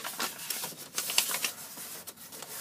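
Sheets of paper being creased and folded down into a DIY organizing box, with crisp rustling swishes and soft taps close by, in irregular bursts with no talking.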